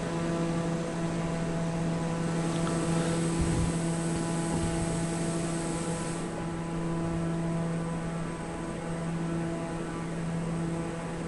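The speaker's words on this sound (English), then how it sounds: "I'm testing out this new aircraft. Just on a takeoff and landing at St." Steady engine drone of a new aircraft taking off at St. Barth's in Microsoft Flight Simulator 2024 on PS5, a constant hum with tonal bands and a rushing wash that thins midway, no talking.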